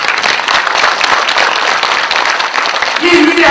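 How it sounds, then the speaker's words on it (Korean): Audience applause fills a lecture hall after a talk about a memorial tower built in front of Gwanghwamun in Seoul, steady dense clapping throughout with a faint voice or tone near the end. "박수 한번 쳐주세요."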